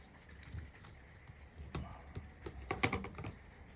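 Paper is creased and folded along score lines for a small handmade tag book, making close, crisp crinkles and taps that build toward a few sharper snaps near the end.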